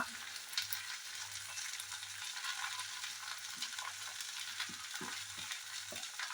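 Green beans and onion fry in a pan for Kerala thoran. A steady sizzle runs throughout, with a stirring spoon clattering now and then close by.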